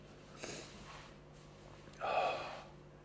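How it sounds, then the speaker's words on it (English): Two quick sniffs through the nose, close and fairly soft, the second a little stronger, with a quiet room behind. "I keep on sniffing"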